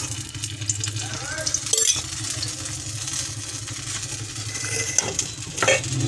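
Desi ghee heating in a hot pan, giving a steady, continuous sizzle that runs throughout alongside a low background hum.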